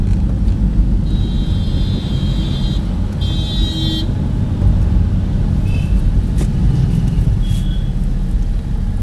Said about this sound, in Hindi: जैसा कि आप देख सकते हैं ये गाड़ी चल रही है।